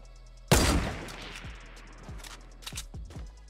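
Gunfire aimed at the player in Fortnite: a sharp loud burst opens, followed by a string of separate shots cracking in irregular rhythm, some nearer and some more distant, with no talk over them.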